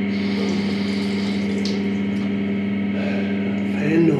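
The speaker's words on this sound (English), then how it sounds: "Fan noise." A hotel room fan in Queensland makes a steady, loud, droning hum with a constant tonal whine, close by and continuous throughout.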